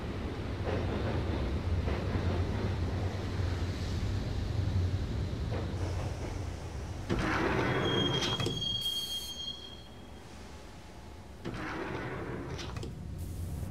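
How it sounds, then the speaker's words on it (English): Steady rumble of a train in motion in the video game Max Payne (2001), with a rising metallic squeal of wheels on rails midway and a brief high whine, no talking. "the train doors had already shut behind me, and I was in for the ride"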